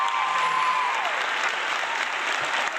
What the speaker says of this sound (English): The crowd goes wild